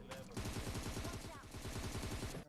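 Rapid automatic gunfire from the mobile battle-royale game PUBG Mobile, a dense continuous burst of loud shots lasting a couple of seconds, close and steady, with a short quieter gap at the start.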